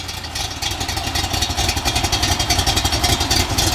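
A 1965 AC Shelby Cobra V8 idles loud and close with a lumpy cam rumble, its rhythmic chop pulsing evenly for several seconds before cutting off abruptly at the end.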